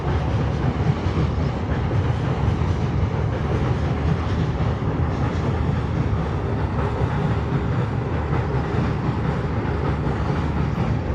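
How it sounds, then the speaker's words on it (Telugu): A train rumbles past steadily along the bank of the Krishna River for the whole stretch, a loud, broad roar with faint rhythmic clatter and no voices. "చూడండి ట్రైన్ వెళ్తుంది కృష్ణానది ఒడ్డు నుండి"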